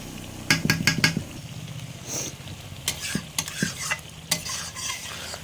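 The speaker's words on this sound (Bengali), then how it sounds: "কিছুটা কষিয়ে নেব।" Chicken masala is sautéed in a pan, with a spoon scraping and clanking against the metal in quick bursts over a continuous frying sizzle, close up and without talk.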